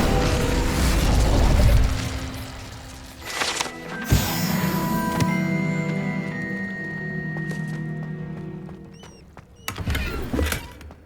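A fire spell cast in the video game Hogwarts Legacy: a burst of noise and a booming whoosh, followed by a sustained crackling, humming flare that fades out, with a second sharp burst near the end.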